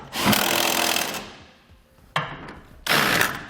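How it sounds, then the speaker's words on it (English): Two or three loud bursts from a power wrench tighten bolts with a 15/16 socket on a B and W underbed kit in a 2019 Chevrolet Silverado bed, separated by short pauses. "For our larger side bolts, we'll be using a 15/16 socket."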